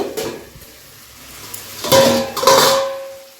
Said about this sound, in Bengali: এবার ঢাকনাটা খুলে দেখে নেব